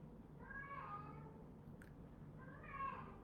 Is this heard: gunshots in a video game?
no